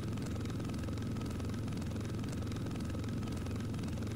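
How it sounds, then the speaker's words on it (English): A helicopter in the Roblox game Blackhawk Rescue Mission 5 drones steadily, a constant low whirring rotor hum at moderate distance with no speech over it. "I died from falling out of my helicopter."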